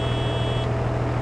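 Tractor horn in Farming Simulator 22 sounding as a steady, thin electronic tone, held continuously for about a second over a low engine hum.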